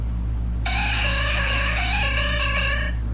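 A single sustained cry of the Pokémon Jinx from the Pokémon Go game, used as a ringtone, rings out as a bright, warbling electronic tone over a steady low hum, held for over two seconds.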